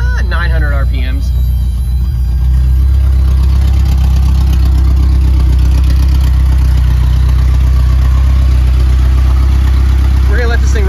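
A freshly rebuilt engine idles at about 900 RPM, a loud, steady low rumble that continues unbroken, with someone speaking briefly near the start.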